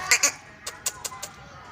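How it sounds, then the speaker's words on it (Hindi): At a Bakra Mandi livestock market, a goat gives two short, sharp bleats close by, then a few quicker, fainter calls. "माशा ये बकरी"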